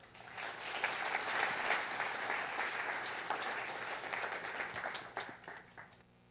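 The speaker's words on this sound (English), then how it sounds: "A warm applause for Niko Marković." Warm applause from a fashion festival audience fills the room, steady dense clapping that holds throughout before cutting off abruptly at the end.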